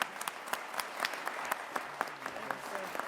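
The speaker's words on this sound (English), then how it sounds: "Let's give them a big round of applause" Applause from an audience right after a governor signs a bill into law, steady dense clapping with sharp individual claps standing out, moderately loud and continuous throughout.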